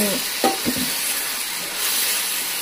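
Ginger garlic paste frying in a pan, a steady close sizzle and hiss with a couple of soft stirring scrapes early on, no voices.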